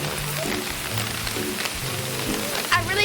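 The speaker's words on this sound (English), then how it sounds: "It's just rain." Rain falls steadily, making a soft continuous hiss with scattered droplet patters and no voices.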